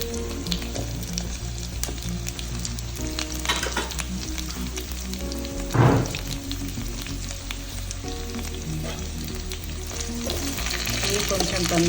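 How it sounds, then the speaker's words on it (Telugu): Onions and green chillies with drumstick pieces fry in a pan for Telangana-style horse gram rasam, giving a steady close sizzle throughout with a brief louder clatter of stirring near the middle, no talk. "ఇవి కొంచెం ఫ్రై అయినాక మునక్కాయలు వేసుకుందాం."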